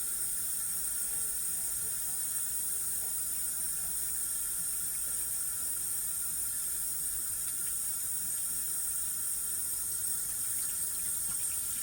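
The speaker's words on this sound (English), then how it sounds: "Gotta wash my hands again." Tap water runs steadily into a sink while hands are washed between shaping Japanese rice balls, a constant bright hissing stream held at even loudness throughout.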